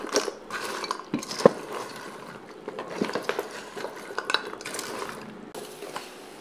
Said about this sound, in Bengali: শিরাটা বেশ ঘন হয়ে এসেছে, এ পর্যায়ে দিয়ে দেব খুরমাগুলো। এগুলোকে ভালোভাবে নেড়ে চেড়ে নেব।